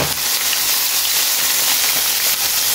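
Crushed garlic dropped into hot oil with cumin seeds, giving a loud, steady, dense sizzle that carries on unbroken throughout.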